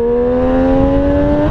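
A Triumph Street Triple 765 S motorcycle engine drones steadily at a constant pitch with strong harmonics, close and loud throughout, without clear revving swells.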